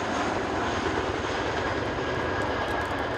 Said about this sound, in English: giving you the chance to really hear the famous and fabulous sound that is #BladeSlap.